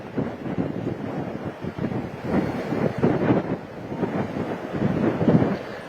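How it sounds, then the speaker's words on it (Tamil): Strong wind from Cyclone Fengal roars across the microphone on the Pattinapakkam coast, a continuous loud buffeting with rising and falling gusts and no voices. "தொடர்ச்சியாக பட்டினப்பாக்கம் பகுதியில் காற்றினுடைய வேகம் அதிகமாகவே இருக்கிறது"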